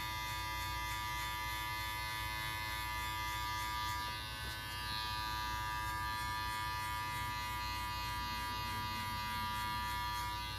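Electric hair clippers buzzing steadily while cutting a fade, a close, continuous hum with a constant pitch and slight variations as the blade works through hair.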